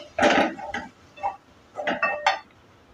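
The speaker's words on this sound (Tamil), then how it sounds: "இப்போ இதே நம்ம லைட்டாக ரெண்டு செகண்ட் நம்ம வதக்கி விட்டுக்கலாம்" Tamarind curry being sautéed with homemade kuzhambu powder in a pan: a handful of close metallic clinks and scrapes as a spoon stirs against the pan, in short irregular bursts.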